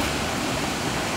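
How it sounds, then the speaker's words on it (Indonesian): The Gunung Sampar Nyawe waterfall in Lahat, Indonesia, pours with a dense, continuous broadband rush, steady and fairly loud throughout, with no other sounds. "itu air terjun Gunung Sampar Nyawe"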